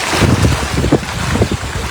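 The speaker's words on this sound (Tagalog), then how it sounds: "kasi malakas ang hangin" Strong wind at a beach buffets the microphone with loud, gusty rumbling and roaring, surging and easing continuously over a brief stretch with no voices.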